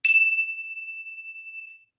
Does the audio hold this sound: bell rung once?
yes